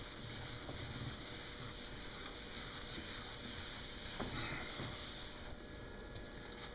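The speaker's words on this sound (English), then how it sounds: "make sure you clean the surface really well. Use some isopropyl alcohol." Cloth wiping a sign surface clean with isopropyl alcohol before vinyl application, making steady soft rubbing strokes, close and quiet, with no speech.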